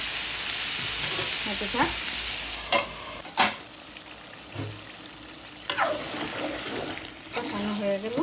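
Prawns and whole green chilies sauté in a pan with a steady frying hiss, punctuated by several clattering stirs and scrapes of a utensil, while a voice speaks briefly in Bengali.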